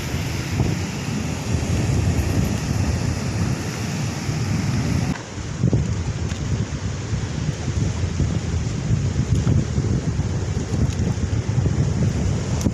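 Strong, steady storm wind roars across the microphone over the continuous wash of sea surf on a rocky shore, loud and close throughout, with no one speaking.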